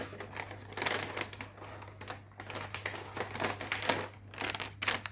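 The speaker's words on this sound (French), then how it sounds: "C'est présenté avec un petit papier comme ça, c'est même scellé, donc je vais ouvrir ça avec vous." Sealed paper wrapping on a shoe box is torn open and crumpled, with irregular crinkling and rustling bursts close by, plus a low steady hum underneath and no talking.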